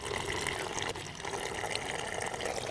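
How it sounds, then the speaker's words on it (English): Water drains from an RV hot water tank into a bucket, a loud continuous splashing gush that holds steady close by for the whole stretch, with no talk. "I'll try to take as much water as I can out of the hot water tank"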